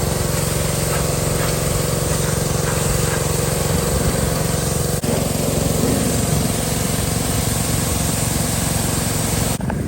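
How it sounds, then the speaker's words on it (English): A pressure washer engine runs steadily and loudly throughout, a dense, constant motor drone with hissing spray on top while a 1968 Chevrolet C10 engine bay is degreased, with no voices. "pressure washing"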